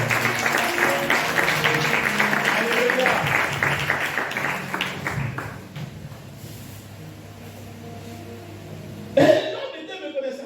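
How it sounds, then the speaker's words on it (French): A church congregation applauds and cheers the Lord, with steady clapping and voices loud at first, then fading into a quieter murmur before a brief burst near the end. "Est-ce que tu peux acclamer le Seigneur?"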